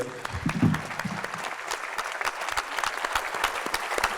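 An audience at a business conference applauds a host, a steady wash of clapping with scattered crisp individual claps, briefly under a voice at the start.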